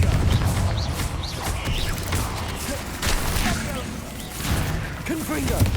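Confringo explosive spells cast in Hogwarts Legacy, heard as repeated bursts and crackling blasts among busy mechanical clatter and game effects, with one or two voices calling out over the continuous, loud combat din.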